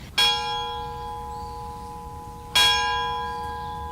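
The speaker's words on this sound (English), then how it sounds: "A typical day at Little Wohelo begins with the bell ringing and waking everyone up." A camp bell at a girls' summer camp by a lake strikes twice, about two and a half seconds apart, each loud clear ring decaying slowly with a sustained ringing tone between strikes.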